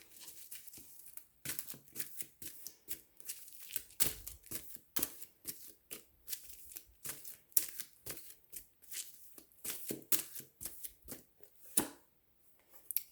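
Quiet, close shuffling of a deck of cards: repeated short riffling and flicking bursts with brief pauses between them, no speech.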